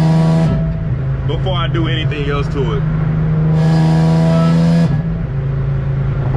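An Infiniti G37 with a loud, steady engine drone builds speed from inside the cabin, its pitch climbing and then dropping as a shift comes, while someone talks over the noise.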